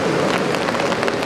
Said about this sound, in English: this rain is just straight down, coming straight down